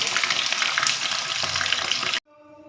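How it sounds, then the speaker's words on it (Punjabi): Pieces of jackfruit (kathal) fry in hot oil with a loud, steady crackling sizzle for about two seconds, then cut off abruptly to faint, quiet music tones. "ਸਾਡਾ ਕਟਲ ਫਰਾਈ ਹੋ ਚੁੱਕਾ ਹੈ"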